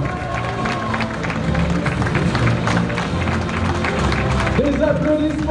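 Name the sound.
audience applause at Miss Somme 2012 pageant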